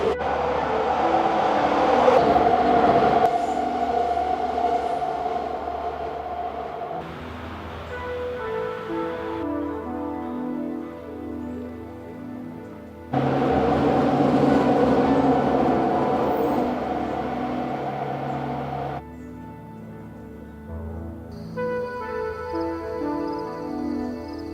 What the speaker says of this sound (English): I discovered the SkyTrain ran right next to the park.